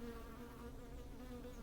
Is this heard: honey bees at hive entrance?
yes